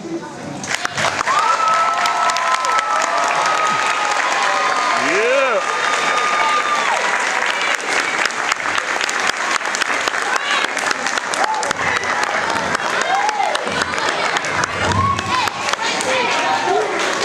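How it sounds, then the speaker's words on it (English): Big crowd at a fifth-grade graduation applauds a valedictorian speech with continuous dense clapping and some cheering, while voices call out over it throughout. "There's too many people here for that applause to be so low."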